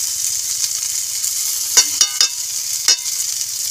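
Potato filling for aloo paratha sizzles softly in a pan, with a few sharp clatters of a spoon stirring against the metal near the middle; no voices.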